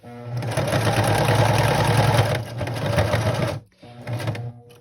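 A sewing machine runs in a steady, fast whirring stitch through vintage fabric scraps being sewn into bird shapes, close and loud, then briefly stops and starts again near the end.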